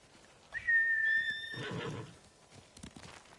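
A horse in the Ghost of Tsushima video game gives a clear, close whinny lasting about a second, followed by a burst of hoof clatter and softer movement noise.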